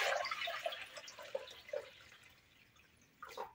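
Warm water poured over four spoonfuls of salt to make brine for pickled fennel gives a few soft, faint splashes and drips in short bursts, fading to near quiet before a last trickle. No one speaks.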